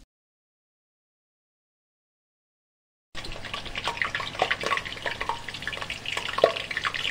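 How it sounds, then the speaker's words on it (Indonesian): After three seconds of silence, chicken for ayam geprek begins frying in oil, a steady close sizzle and bubbling hiss with occasional pops. "Aku langsung gorengin."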